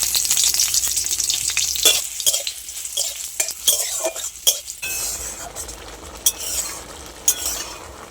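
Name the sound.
nigella seeds, dried chili and onion frying in mustard oil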